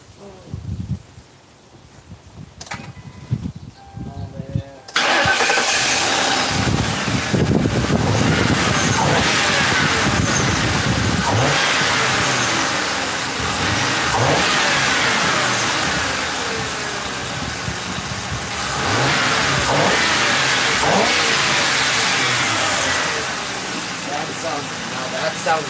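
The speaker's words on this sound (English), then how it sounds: "So let's fire up and hope." A police car engine cranks and catches after a few quiet seconds of shuffling, then runs loud and close with rough revving that rises and falls; a voice can be heard briefly over it.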